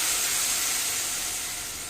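Tamarind extract poured into a hot tempering of mustard seeds, cumin, asafoetida and turmeric for toor dal amti gives a loud, close, continuous sizzling hiss that eases slightly toward the end.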